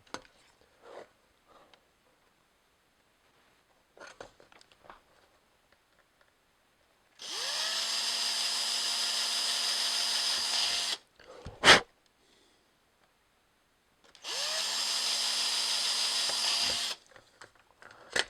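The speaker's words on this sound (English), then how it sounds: "So I'm going to drill my 2 holes." A power drill fitted with a 1/16 bit bores two holes during a Gottlieb Count-Down pinball restoration. Two steady, high whirring bursts of a few seconds each are split by a pause with a sharp knock, under faint handling noises.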